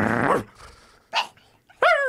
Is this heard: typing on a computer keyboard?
no